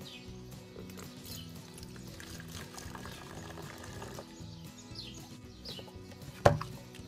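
Water poured into a plastic spray bottle holding a dish-soap mixture, a faint steady trickle running for several seconds before a brief knock near the end.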